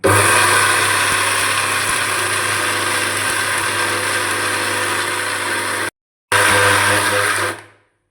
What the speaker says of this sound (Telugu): కారం పొడి మిక్సీ పట్టుకుందామండి ఇప్పుడు మనం